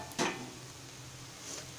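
A metal plate is lifted off a hot cooking pan while making ghavane, giving one short clatter of metal on metal near the start, followed by a faint, quiet kitchen background.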